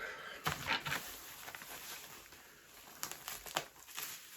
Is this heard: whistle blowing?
no